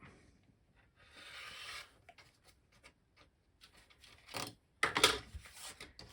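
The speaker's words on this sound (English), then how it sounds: "Take the add a 1/4 ruler and trim." Scissors or a rotary cutter trim a fabric seam allowance along an Add-a-Quarter ruler on a foundation paper pieced block, giving quiet scraping and rubbing strokes, a brief soft rasp early and a louder crisp burst near the end, with no speech.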